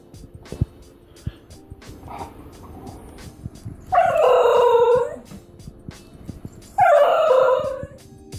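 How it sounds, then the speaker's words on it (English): Basenji dog giving its yodel-like vocalisations instead of barking, two loud, close, warbling howls of about a second each, separated by a quieter gap of background noise. "Instead of barking, the Basenji makes characteristic yodel-like sounds"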